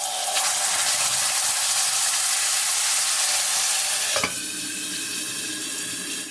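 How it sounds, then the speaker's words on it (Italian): Tomato added to garlic and anchovy frying in a pan for pasta e ceci alla romana, a bright continuous sizzle that drops in intensity after a sharp clatter partway through. "Facciamola di nuovo soffriggere come abbiamo fatto con l'aglio e con l'acciuga"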